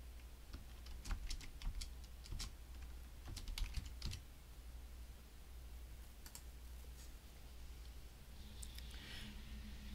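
A name being typed on a computer keyboard, with quiet, fairly close key clicks in irregular clusters over the first few seconds, then sparser taps against a low hum.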